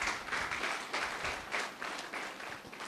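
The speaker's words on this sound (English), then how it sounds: "So Zamani, another round of applause." Audience applause fills a graduation ceremony for a psycho-trauma healing course, steady dense clapping from a crowd throughout, moderately loud with no speech over it.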